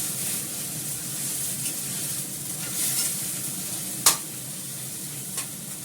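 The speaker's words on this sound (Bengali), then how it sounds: "সবটাই দিয়ে দিলাম। এটা ভালো করে কষাবো।" Onion, garlic and ginger pastes sauté in a pan for biryani, giving a steady close sizzle and hiss with a sharp utensil clink near the end and a softer one after, and no one speaking.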